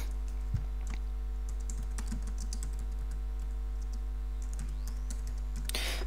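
Computer keyboard typing at a steady, close pace, scattered key clicks over a constant low electrical hum, with no voices.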